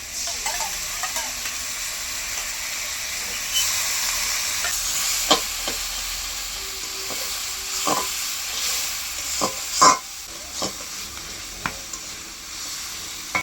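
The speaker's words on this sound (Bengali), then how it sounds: "সস দিয়ে তো সঙ্গে সঙ্গে নাড়তে থাকবো, না তো কড়াইতে লেগে যাবে।" Utensil scraping and stirring of sauce in a wok over a steady sizzle, with irregular sharp clinks and scrapes, close up and fairly loud, no talking.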